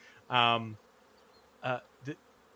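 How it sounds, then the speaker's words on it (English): Bees buzz near their hive in short passes: one long droning sweep, then two brief buzzes, fairly close against quiet background. "if the bees allowed me to get any closer, which they don't"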